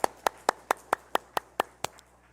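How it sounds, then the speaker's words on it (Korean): Hands clap at a church service: about nine sharp claps in an even, steady rhythm that fade out near the end, fairly close and alone without talk. "우리 하나님께 감사와 영광의 박수 한번 드립시다."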